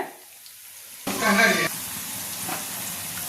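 Carrot vadai frying in hot oil, starting quiet before a louder burst of bubbling sizzle as batter drops in, then settling into a steady softer fizz.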